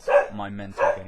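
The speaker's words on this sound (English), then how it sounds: "Sorry about the dogs." Dogs bark a few times nearby, with a bark at the start and another near the end, mixed in with a voice talking indoors.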